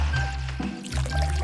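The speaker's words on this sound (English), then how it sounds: "I'll just pour a glass." A drink, apparently leftover soda, is poured into a glass, giving a soft steady liquid trickle close by with a brief gurgle partway through and low hum underneath.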